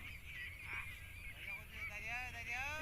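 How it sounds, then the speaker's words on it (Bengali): White ducks at a large duck farm of around two thousand birds keep up a continuous chorus of honking, quacking calls, moderately distant and fairly soft, with faint talk beneath. "ওখান থেকে একটা হাঁসের ফার্ম আছে সাদা সাদা হাঁসের ফার্ম"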